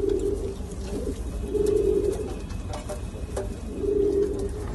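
Giribaz pigeons coo while they eat, with several low, rolling coos in repeating bursts, close and clear over a steady background, and no talk.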